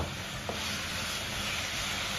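Garlic scapes stir-fried in a hot wok with oil and Sichuan pepper powder give a constant, close sizzling hiss, even and unbroken, with no voices.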